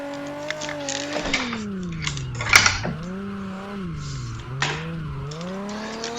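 A manual drift car with handbrake and clutch kicks slides at Nikko circuit, its engine droning and wavering in pitch as it revs, with a brief tyre squeal midway, heard close and continuous.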